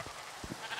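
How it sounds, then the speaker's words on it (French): A Minecraft sheep in the Sky Greg modpack lets out a short, faint bleat under a steady hiss of background noise. "Oh là, le mouton là, tu vas où là?"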